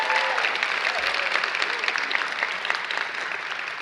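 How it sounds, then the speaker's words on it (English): A graduation audience at a spring commencement ceremony applauds in a dense, sustained wash of clapping that fills the whole stretch, with faint voices mixed in. "So give yourself a round of applause."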